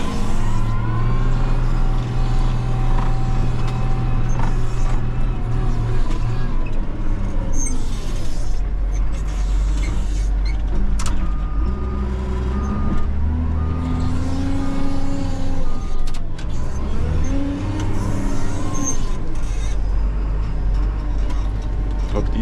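Caterpillar 930H wheel loader fitted with forks, driving through a puddle with a steady, loud diesel drone, its engine pitch rising and falling as it moves, with a voice faintly under the noise.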